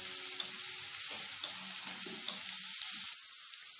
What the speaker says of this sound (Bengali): এবার তেলের মধ্যে আমি দিয়ে দেবো পেঁয়াজ কুচি।